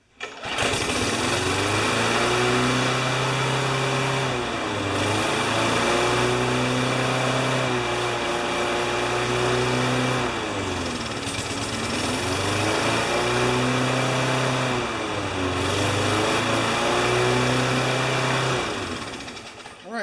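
A Yard Pro push mower with a Briggs Pulsa Prime engine runs steadily and loud up close, its droning hum swelling and dipping in slow repeated cycles for the whole stretch, with no talk over it.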